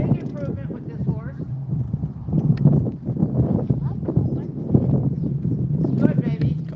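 Horse hooves clip-clop in an irregular, continuous patter during a training session at a horse rescue, heard close amid light wind noise on the microphone, with a person talking over the steps.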